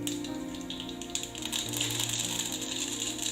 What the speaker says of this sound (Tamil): எண்ணெய் சூடானதும் இதுல ஒரு 1/2 டீஸ்பூன் கடுகு சேர்த்துக்கலாம்